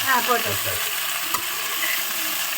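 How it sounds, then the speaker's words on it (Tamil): Tapioca root stirred through hot oil with mustard seeds, green chillies and curry leaves, a steady broadband sizzle with scraping stirs near at hand, a voice briefly audible at the start. "அப்படியே கிழங்க உள்ள போட்டு கிளற வேண்டியது"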